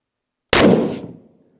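A single loud Tikka T3X Superlite rifle shot in 7PRC, fired with Federal and Hornady ammunition and no muzzle brake, bursts sharply after a short silence and then rumbles away for under a second.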